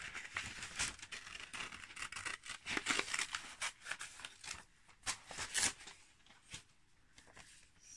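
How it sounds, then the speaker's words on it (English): Scissors cutting a rough paper shape out around a black outline, with crisp snipping and crinkling of paper in short irregular bursts, close and fairly quiet, with no talking. "I'm going to cut it out."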